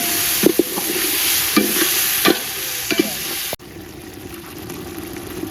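Tomatoes sizzle in hot oil in a pan as they are sautéed for a meat curry, with a steady frying hiss and several clinks of a stirring spoon, and a voice talks quietly now and then.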